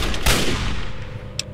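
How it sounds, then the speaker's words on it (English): Gunfire in the video game Fallout 3: one heavy booming shot near the start decays into a rumbling tail, then a few lighter, sharper cracks follow further off. "Gunfire that time!"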